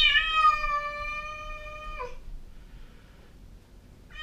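An abandoned cat left behind in a rental house lets out a loud, close, sustained meow lasting about two seconds, then falls quiet, with a second cry just starting at the end.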